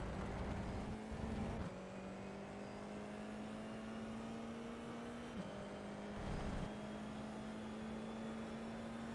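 An F4 race car's engine in iRacing at Imola holds a steady, loud drone, with short dips where the driver lifts off the throttle before the note climbs again under acceleration.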